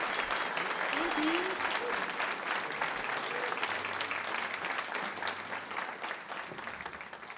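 Audience applause at a live radio show, a dense sustained clapping with a few cheers that fades slightly toward the end, with no voices over it.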